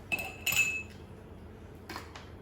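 Spoonfuls of grated carrot being scooped into picnic containers, giving two short bursts of close metallic clinks of a spoon against dishes, separated by a quiet pause.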